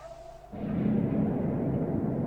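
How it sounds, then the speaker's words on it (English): A Minecraft creeper's muffled explosion bursts in after a short quiet moment, then rolls on as a low, echoing rumble deep inside a cave. "the faint sound of a creeper hiss and explosion echoing through the cave"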